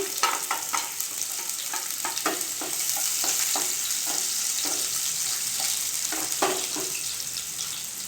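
Onion frying in a pan for pullagandha pulusu: a bright crackling sizzle punctuated by frequent, uneven spatula scrapes and clatters against the pan, close and clear, with nobody speaking.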